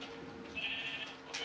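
A Minecraft sheep gives a single short bleat, thin and fairly faint, over a quiet game background.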